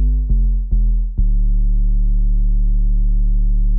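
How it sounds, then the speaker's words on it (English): A simple bass patch built in the Audulus synthesizer plays three short low notes in quick succession, then holds a steady, clean, deep tone to the end with no voices. "And this configuration, it sounds like a bass."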